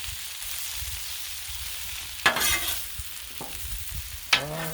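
Food is stirred and scraped on a Blackstone griddle with cabbage, fingerling potatoes and sausage, a steady sizzle of frying running throughout while a few sharp metal spatula scrapes stand out near the middle and end.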